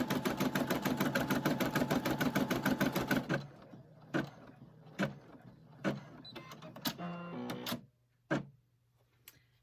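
An embroidery machine stitches in a fast, loud, steady mechanical rattle for a few seconds, then stops, leaving scattered clicks, taps and short whirring bursts up close with no talking.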